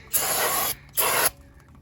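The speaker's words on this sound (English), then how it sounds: "I like to spray brake cleaner on any other contaminants that may be on it before I drive the car" Brake cleaner sprayed from an aerosol can onto the rear brakes of a VW Passat, two close, loud hissing bursts, the first about half a second long and the second shorter, separated by a brief pause.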